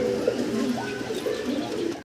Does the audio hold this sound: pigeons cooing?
yes